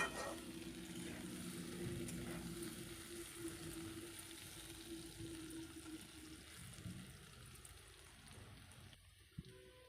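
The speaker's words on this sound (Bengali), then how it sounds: "পাঁচ মিনিটের মতন এই ওলকচুগুলো আলুর সাথে ভেজে নেব" Elephant foot yam and potatoes fry in a pan for a Bengali ol chingri dish, giving a steady, moderately loud sizzle that fades a little near the end, with no talking.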